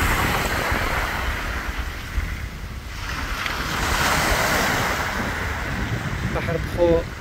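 North Sea waves breaking on a beach near a pier, a loud continuous roar of surf swelling and easing under gusty wind buffeting the microphone, with faint voices at the end.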